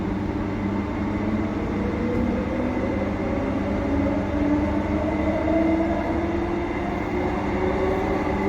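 Steady, loud rumble inside a moving passenger train on the Thornlie-Cockburn Line, a constant low drone with a slowly rising motor whine and no talk.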